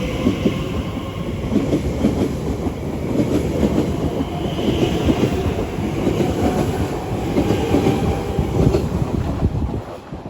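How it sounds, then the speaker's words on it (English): An Elizabeth line train pulls away from West Ealing station on the Great Western Main Line toward Heathrow Terminal 5, a loud, close, continuous rumble of wheels and motors with rhythmic rail clatter that holds steady, then eases at the end. "It's now heading off. It's the 1437 Elizabeth line service to Heathrow Terminal 5."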